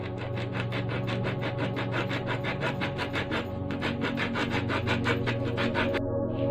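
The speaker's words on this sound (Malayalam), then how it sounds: "ഞാൻ ഈ മാർക്ക് ഇട്ടിരിക്കുന്ന ഇത്രയും നീളത്തിൽ നമുക്കൊന്ന് കട്ട് ചെയ്തെടുക്കണം." A plastic bottle is being cut to length by hand, giving a fast, steady run of rasping back-and-forth sawing strokes, close and even, with no talking.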